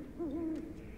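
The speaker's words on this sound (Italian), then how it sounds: "Sento anche un gufo da qualche parte." An owl gives a single clear hoot in the video game Never Alone, a short rising-and-falling call heard fairly close against a quiet background.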